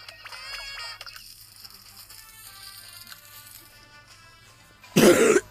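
A single loud, harsh cough bursts in near the end, close to the microphone, after several seconds of quiet game sound effects and faint tones.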